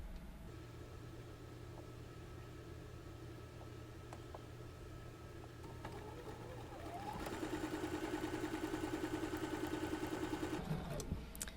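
A sewing machine stitches a pre-cut Alaska block-of-the-month quilt, its motor starting around the midpoint and running in a steady, moderately loud, rapid buzzing hum over low background rumble before stopping near the end.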